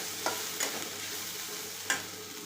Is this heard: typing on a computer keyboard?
no